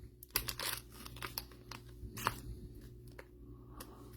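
Quiet, close-up crisp riffles and crinkly snaps of Topps Chrome Jumbo trading cards being shuffled, in irregular bursts with short pauses between.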